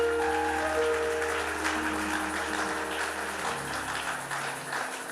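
Congregation applauding at a church gathering, a steady wash of clapping throughout with sustained organ or keyboard tones underneath, no voices over it.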